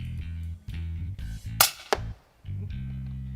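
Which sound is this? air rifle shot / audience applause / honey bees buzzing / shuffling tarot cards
air rifle shot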